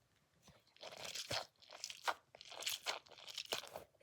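A fake blue dumpling squishy filled with Orbeez is squeezed close up, giving a run of bursts of crunchy, squishy crackling in an uneven rhythm, with no talking.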